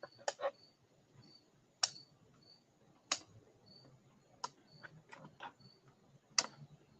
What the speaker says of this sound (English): I'm going to take my scissors and snip the bits holding them in.